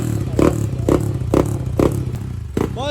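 Honda Click 125 scooter engine idling after a valve spring rebuild, a low steady running note broken by four evenly spaced clattering thumps, close up with no talk.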